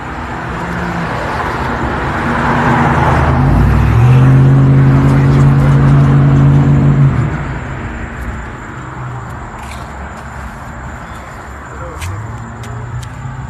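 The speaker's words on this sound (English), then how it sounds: "We're getting a lot of street noise." Street traffic outside a historic house rolls past as a loud vehicle surges by and fades, leaving a steady roadway hum, with people talking faintly underneath.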